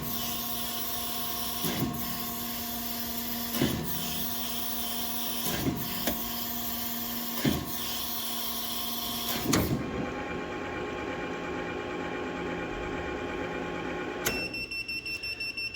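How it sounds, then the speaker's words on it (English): A Willis Machinery 1632 surface grinder runs a full stroke of saddle travel, a steady loud mechanical whine and hum with periodic knocks every couple of seconds, then a shift in tone and faint ticking as it shuts off. "Now it's going to make the full stroke up to the other end of the saddle movement"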